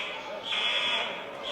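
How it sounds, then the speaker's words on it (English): Fire alarm sounding inside a high school gym during a wrestling meet, a loud steady electronic buzzing tone that swells and holds, filling the room. "fire alarms are going off here at the Abilene gym"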